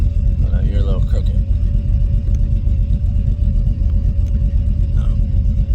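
An LS-swapped Monte Carlo engine idles with a steady, loud low rumble close by, while a voice briefly speaks over it.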